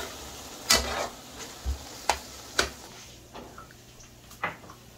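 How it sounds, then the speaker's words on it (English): Onion frying in a pot for a Guyanese-style aloo curry, with a soft, low sizzle underneath and several sharp clinks and scrapes of a spoon stirring against the pot at irregular intervals. "So I get my onion here frying to cook my aloo curry now."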